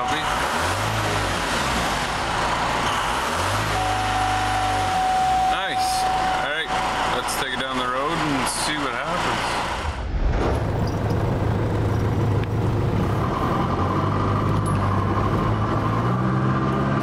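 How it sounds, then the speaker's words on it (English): Diesel truck engine cranking and starting, then settling into a steady idle with a faint turbo whistle, recorded close by. "We'll fire up the truck here."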